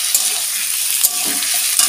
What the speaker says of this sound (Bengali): এবার একটু আমি নেড়ে নিচ্ছি